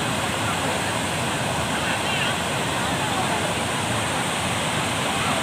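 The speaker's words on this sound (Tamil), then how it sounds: "தண்ணி வந்து ரொம்ப ஸ்பீடாக வருது ரொம்ப பயமாகவும் இருக்குது குளிக்கிறதுக்கு" Fast-flowing water pours over Kuruvithurai waterfall near Madurai, a constant loud roaring rush that sounds close by and steady throughout, with no break in the torrent.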